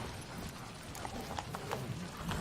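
Roach the horse's hooves clip-clop steadily across the ground in The Witcher 3, a close, even rhythm of hoofbeats running through the whole moment with no talk over it.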